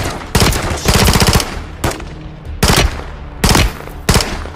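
Call of Duty Modern Warfare 3 firefight on PS5: loud, close bursts of automatic gunfire come in several separate volleys, each a rapid rattle of shots with short gaps between them.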